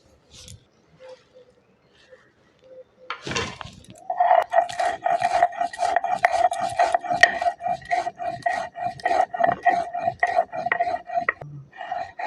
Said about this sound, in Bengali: আমি মশলাটা বেটে নিই